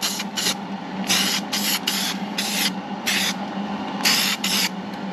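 Etching primer sprayed onto freshly welded inner quarter panel metal on a 1968 Pontiac Firebird, in a string of short loud aerosol hisses with brief gaps between bursts, close by and with no talking.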